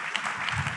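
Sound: audience clapping

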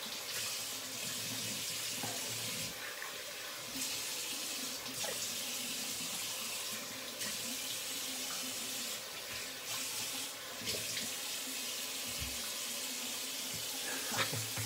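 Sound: running tap water for a cold water rinse

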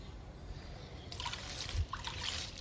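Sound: sprinkling plant tonic liquid on indoor plants

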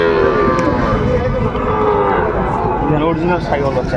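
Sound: Sahiwal heifer calves mooing

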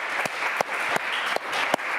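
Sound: audience applause for Martine

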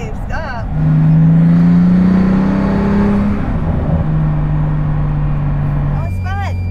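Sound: Pagani Huayra Roadster BC sports car engine accelerating

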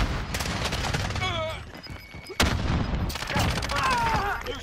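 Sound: gunfire in a video game

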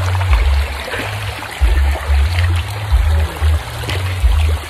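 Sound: river stream flowing

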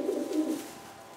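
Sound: Janssen De Klak racing pigeon

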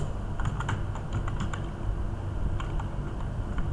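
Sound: typing on a computer keyboard

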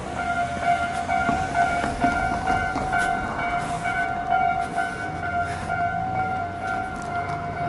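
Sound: Kintetsu Nara Line train passing level crossing

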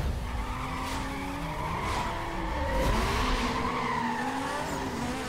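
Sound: car accelerating and skidding in Need for Speed Most Wanted video game

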